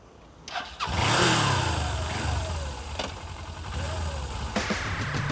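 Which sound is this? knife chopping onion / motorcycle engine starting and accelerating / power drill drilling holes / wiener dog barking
motorcycle engine starting and accelerating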